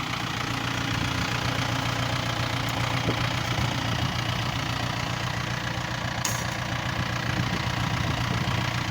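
A Yanmar FX305 30-horsepower tractor engine idles steadily up close, a continuous low diesel rumble with a faint knocking texture and no talking.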